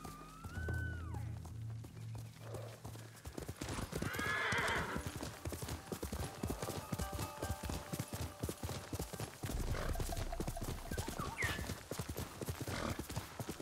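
Horse hooves clip-clop at a gallop in the samurai video game Ghost of Tsushima, a steady rapid beat with whinnies and neighs, loud and close against game ambience and music.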